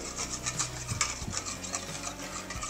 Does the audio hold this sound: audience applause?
no